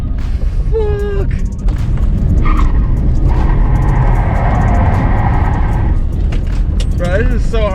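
BMW 530i E34 drifting at a drift event, engine revving and tires squealing in long screeching stretches under loud, continuous close-up talk from people in the car.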